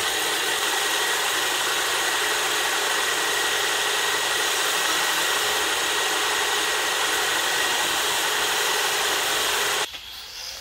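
Boring machine cutting through the plated bore of a wrecked GP1300 motorcycle cylinder, a steady loud high whine and hiss held for about ten seconds before abruptly dropping off, with no talking.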